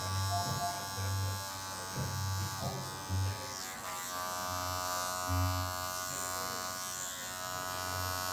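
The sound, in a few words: electric trimmer shaving up under the jawline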